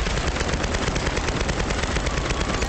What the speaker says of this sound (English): Those bullets are missing like crazy.